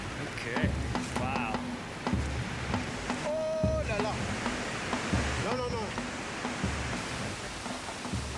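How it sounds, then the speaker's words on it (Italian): Kongou Falls rapids in Africa roar as a steady, broad wash of rushing water, with someone talking over it throughout. "Le cascate Kongu."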